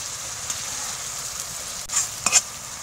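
Onion frying in a pan for a Bengali-style paneer curry, a steady soft sizzle with a few brief stirring scrapes near the end.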